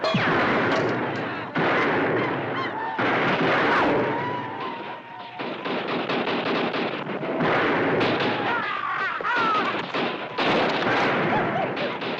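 Gunfire in a Western TV drama battle, with repeated rifle and gun shots and booming reports crackling continuously over a dense, loud scene, people shouting underneath.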